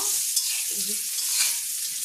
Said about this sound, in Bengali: ওই যে পায়েল করলা ভাজছে কড়াইয়ে